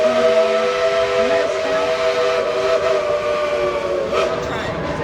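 A steam locomotive's whistle at Dollywood sounds in long, sustained multi-toned blasts with hissing steam underneath, loud and close, with no talk over it.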